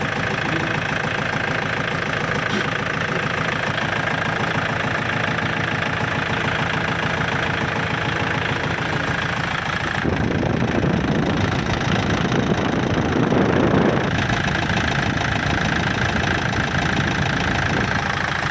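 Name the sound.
tractor engine started and running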